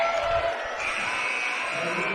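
A women's college basketball crowd cheers in a gym during a Faulkner versus Mobile game, a brief, even wash of voices at moderate level, with talk woven through it.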